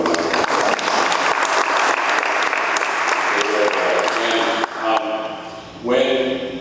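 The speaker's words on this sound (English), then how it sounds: "I just want to give them both another hand of applause" Sustained applause from the audience at a live panel on U.S. torture held at the Adams Center, loud and dense for several seconds before trailing off into scattered claps and a voice.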